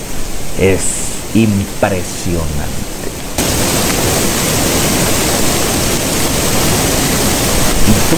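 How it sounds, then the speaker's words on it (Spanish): A person speaks briefly, then a loud, dense rush of falling water from the Villa Luz waterfalls takes over and pours on without pause. "Disfruta el sonido del agua cayendo."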